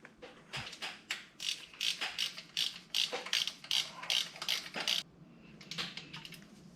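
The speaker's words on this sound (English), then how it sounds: "Get the bolt started." A ratchet wrench clicks in quick repeated bursts while tightening a bolt on the thermostat housing gooseneck of a truck during radiator work, close and fairly loud, with brief pauses between strokes and no talking.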